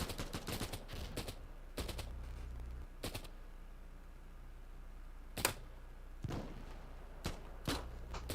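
Gunfire from shooting at range in a video game: a run of sharp, close shots in quick bursts, then a few spaced single cracks over a quiet background, with no talking.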